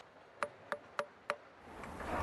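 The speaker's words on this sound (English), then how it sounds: "We use this tool, the little hammer, to listen how the stones sound." A small hammer taps stone four times at Ninh Van stone village, each strike a sharp, ringing click spaced evenly apart, fairly faint against a quiet background that swells with noise at the end.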